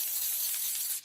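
A can of graffiti spray paint gives a steady, close hiss for about a second before cutting off.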